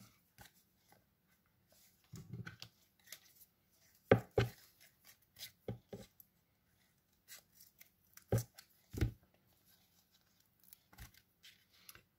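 A piece of craft foam being cut produces quiet, scattered snips and crunchy cuts in irregular bursts, separated by near-silent gaps.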